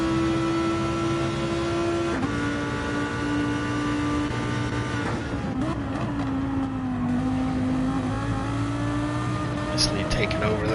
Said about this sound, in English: Tom let that big old BMW V8 stretch its legs